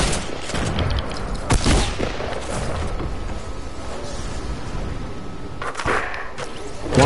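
Gunfire in the Fortnite video game comes as bursts of rapid shots and a few heavier booms over a dense, busy game soundscape throughout.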